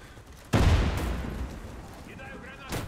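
Gunfire in the Warface video game, a sudden loud burst of blasts that rumbles and decays, with a softer shot near the end, while a voice speaks underneath.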